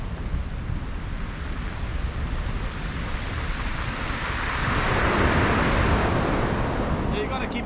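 Ocean surf rolls and washes onto a beach, a loud continuous roar of breaking waves that swells louder midway, with wind buffeting the microphone.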